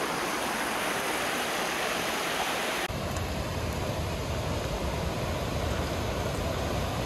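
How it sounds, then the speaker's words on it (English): Constant rushing roar of a smaller waterfall on a hiking trail, broad and steady without pause; the tone shifts abruptly partway through. "Another waterfalls, a bit smaller this time."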